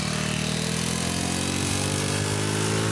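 A motor scooter engine runs steadily at a constant buzzing pitch, loud and close, with no break and no talk over it.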